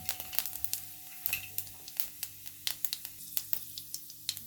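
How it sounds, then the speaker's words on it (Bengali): Fenugreek and cumin seeds crackle in hot oil in a pan, with a quiet steady sizzle broken by many small sharp pops and spits close up. "মেথি আর দেব জিরা। এই জিরা আর মেথির ফোড়নের কম্বিনেশনটা আমার খুব পছন্দ"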